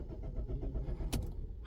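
A 2016 Peugeot 308 with a PureTech petrol engine and a low-oil fault tries to start and fails, giving a brief, loud, close mechanical churn with a sharp click near the end.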